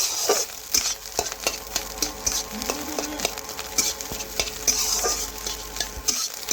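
Fish roe frying over low heat in a pan, stirred steadily with a utensil; a constant close sizzle runs throughout, broken by repeated scraping clicks of the spoon against the pan.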